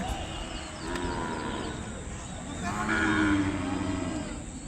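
Cattle at the Kodada bulls market in Telangana, where Ongole bulls are traded, low out in long drawn moos over a busy outdoor murmur, one loud call swelling near the middle.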